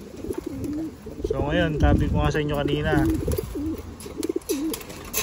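Pigeons coo softly inside a small home pigeon loft, the low rolling calls running beneath a man's close, steady speech for much of the time.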